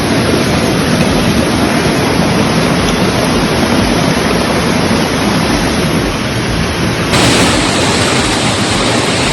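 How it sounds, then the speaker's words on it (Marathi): Very loud, dense roar of heavy monsoon rain and rushing stream water in a village creek in Devgad, a continuous wash of noise close to the microphone with no other sounds standing out. "खूप जोराचा पाऊस आलेला आहे"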